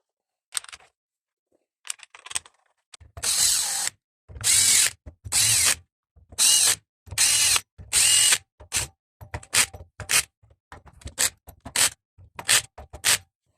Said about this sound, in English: That's just a low torque as well with the drill.